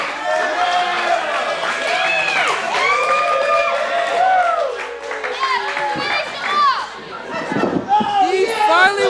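A wrestling crowd at an NJCW championship event cheers and shouts continuously, loud and close, with many overlapping voices, yells and rising whoops swelling around the ring.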